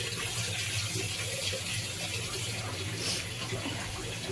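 Hot water pours into a prawn and vegetable curry in a home kitchen, a steady gushing stream that runs evenly for several seconds with no talk.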